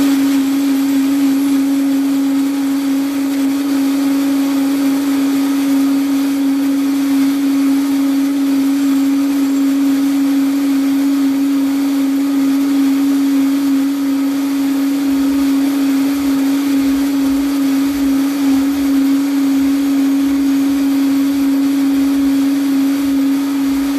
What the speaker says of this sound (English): So I wait to plug in my Vitamix.